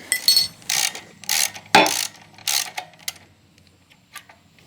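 A ratchet loosens the rear brake adapter bracket on a KTM motorcycle. Several loud bursts of rapid clicking come close by and are separated by pauses, then taper into a few faint ticks.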